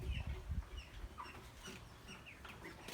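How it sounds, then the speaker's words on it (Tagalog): Backyard pet poultry chickens clucking at close range, with a few soft bursts and low murmuring clucks mixed with faint chirps, no voices over them. "Pakikita ko na rin sa inyo yung mga alaga naming manok, guys"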